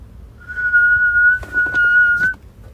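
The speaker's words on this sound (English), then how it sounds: "I can whistle in and out, but my out is better." A person whistles while blowing out, one steady sustained tone held for nearly two seconds, close and clear with no talking.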